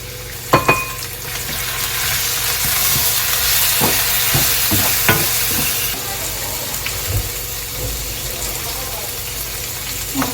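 Chili powder, minced garlic and cut vegetables sizzle softly in oil in a pot over low heat, with a steady frying hiss broken by scattered clinks and scrapes of stirring utensils.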